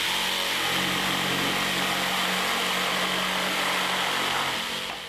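Bosch GST 140 jigsaw cutting through thick timber with orbital action, a loud continuous buzzing motor and blade drone held steady throughout, easing off only at the very end.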